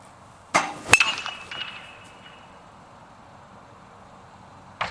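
A drop 5 baseball bat hits a ball with one sharp, loud metallic crack. A second smaller clink follows, then a quiet ringing tail, with another brief knock near the end.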